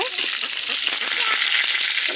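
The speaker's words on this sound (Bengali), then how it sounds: "এখানে এই যে মুরগির মাংসটা ভেজে নেওয়া হচ্ছে" Chicken meat fries in a pan with a dense, close, steady sizzle and occasional stirring scrapes, continuous throughout.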